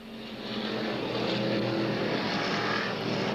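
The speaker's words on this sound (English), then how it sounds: "the street stock division of cars thunder out of turn number 4 and take the green flag" Street stock race cars thunder out of turn four onto the green flag at an oval track, a loud, continuous roar of several engines close by, with no talk.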